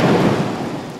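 Rain from a thunderstorm rolling in over a park in Las Tunas, Cuba, a loud dense wash of falling rain with a low rumbling undertone, brief and continuous, no voices.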